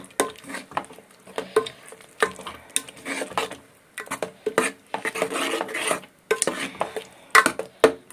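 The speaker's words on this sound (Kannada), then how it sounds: "ಮಸಾಲೆ ಹಾಕ್ಕೊಂಡ್ಮೇಲೆ ಟೊಮಾಟೊ ಜೊತೆ ಸ್ವಲ್ಪ ಚೆನ್ನಾಗಿ ಬೇಯಬೇಕಿದು" Tomato and masala cook in a pan for rasam, with irregular bursts of scraping and stirring over a light frying sizzle, close and fairly loud.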